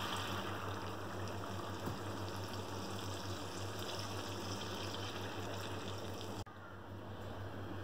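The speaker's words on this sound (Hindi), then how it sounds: "पाँच मिनट भूनने के बाद अब हम इसमें 4 गिलास पानी डाल देंगे।" Four glasses of water go into sizzling beef nihari, a steady loud gush and sizzle of liquid hitting a hot pot, continuous and close, cutting off abruptly near the end.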